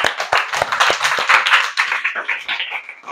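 A group of children clap together at a children's home, a dense, steady patter of quick hand claps that stays fairly close and lively for the whole stretch.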